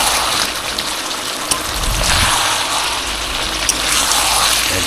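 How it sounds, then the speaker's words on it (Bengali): Water is poured into a pot of simmering Kadaknath chicken curry, a continuous splashy gush with bubbling texture, fairly loud and close, with no talk. "কষানি হয়ে গেছে, একটু জল দিয়ে দেবো।"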